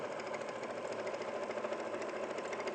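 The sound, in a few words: sewing machine stitching a seam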